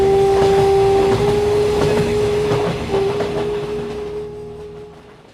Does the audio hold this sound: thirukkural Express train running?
yes